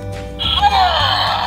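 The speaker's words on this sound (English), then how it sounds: "he yells out Hulk Smash" Hulk action figure from an Avengers Assemble sound-and-action candy toy, pressed to yell a gruff electronic shout, loud and close, over a low hum lasting about a second.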